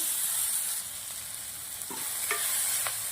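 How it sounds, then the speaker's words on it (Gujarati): Corn sautéing in a pan with crushed black pepper and salt, a soft continuous sizzle with a few brief stirring scrapes near the end. "કૂટેલા કાળા મરી અને મીઠું થોડું બે મિનિટ જેવું સોતે કરીશું"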